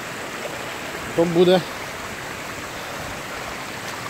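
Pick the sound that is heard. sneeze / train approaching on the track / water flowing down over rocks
water flowing down over rocks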